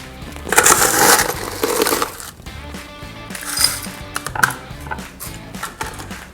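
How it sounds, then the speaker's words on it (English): Ice cubes tumbling and clattering into a mojito glass, a loud rattling burst followed by several further clinks and shifting knocks of ice against glass, close up and without talk. "So we're going to fill this glass up with ice."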